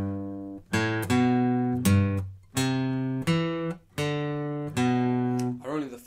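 Acoustic guitar picks out the first half of a song riff, a run of clear plucked notes in short phrases with ringing sustain and brief gaps, close and alone.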